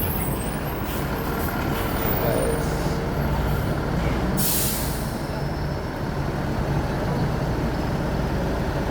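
A Jetbus 3 bus pulls into the Palembang bus terminal with its engine rumbling steadily, and a single sharp air-brake hiss bursts out midway amid the terminal's background noise and faint voices.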